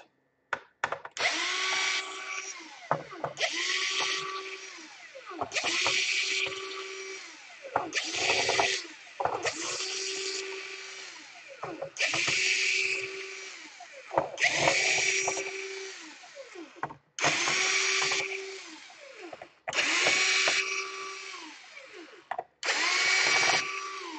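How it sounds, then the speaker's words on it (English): An electric screwdriver backs screws out of an Asus A53S/K53S/A53E laptop during a DC power jack repair, whirring in about nine short, close bursts separated by brief pauses and small clicks. "And now you just unscrew everything here"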